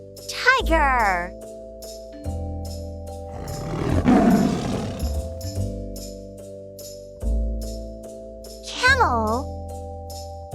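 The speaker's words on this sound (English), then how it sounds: "T-I-G-E-R. Tiger." A tiger's deep, rough roar swells in the middle of the clip over a looping musical backing, with a short voice before and after it.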